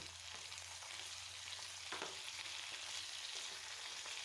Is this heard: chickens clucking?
no